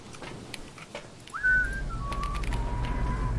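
Two people whistle at once over a low background rumble, producing a clear, sustained tonal whistle that glides down in pitch across a couple of seconds after some faint clicks and rustles.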